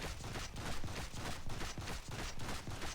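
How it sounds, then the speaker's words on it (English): Suppressing gunfire and grenade launches in the action game Marvel Heroes, a dense continuous barrage of overlapping shots and blasts, loud and steady throughout. "Launch some grenades. Suppressing fire."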